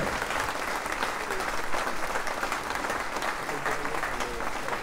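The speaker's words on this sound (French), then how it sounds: "Merci, applaudissements pour Sir Robin Knox Johnston," Audience at a sailing race prize giving applauding Sir Robin Knox Johnston, steady sustained clapping from a large crowd throughout.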